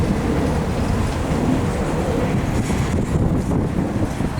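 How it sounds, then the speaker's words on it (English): A CSX EMD remote-control locomotive pulling a long string of freight cars through a rail yard in Buffalo, a loud continuous low rumble and rolling roar right up close, with no voices. "he's pulling a long train."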